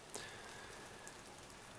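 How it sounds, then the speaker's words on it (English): Steady soft rain patters in the background of a quiet, whispered ASMR setting, forming a faint, even hiss with a few brighter drops and no talking. "So you've got the rain in the background."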